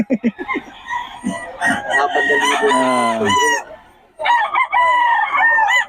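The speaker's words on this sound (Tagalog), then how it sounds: "Solid talaga itong mga manok niya, no?" Gamefowl roosters crow loudly and close by, several calls following and overlapping one another with brief gaps between them.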